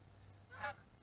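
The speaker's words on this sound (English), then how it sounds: "got the geese flying right overhead." A single short honk from geese flying overhead above a lakeside campground in Osoyoos Lake Veteran's Memorial Park, brief and fairly distant over a low steady hum.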